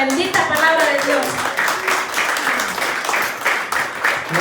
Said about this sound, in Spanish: démosle un fuerte aplauso a la bendita palabra de Dios